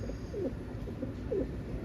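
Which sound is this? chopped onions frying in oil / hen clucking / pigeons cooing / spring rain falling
pigeons cooing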